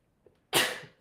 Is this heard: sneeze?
yes